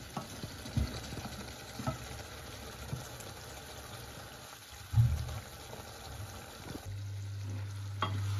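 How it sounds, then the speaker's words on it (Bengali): Hilsa fish head and a couple of pieces fry quietly in a pan for a curry. There is a low background sizzle with occasional soft scrapes and knocks as the fish is turned. "মাছের মাথা আর 2-1টা পিস দিয়ে রান্না করতেছি"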